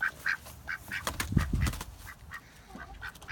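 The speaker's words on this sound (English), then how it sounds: "Oh, ducks." Backyard ducks quacking repeatedly at close range, a steady run of nasal calls over soft outdoor background noise with some low bumps and movement.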